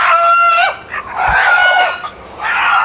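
A village country rooster at a roadside dhaba crows loudly and close, one long strained call followed by a second crow starting near the end, with no talk over it.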